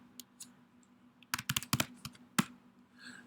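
A computer keyboard clatters under a short burst of typing: a couple of isolated taps, then a quick cluster of about eight sharp keystrokes and a final press, close and clear with no talking.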